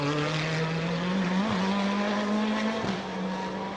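Porsche and Nissan supercars race flat out down a circuit's back straight, a loud sustained engine drone with rising pitch and two brief dips as gears shift, no voices over it.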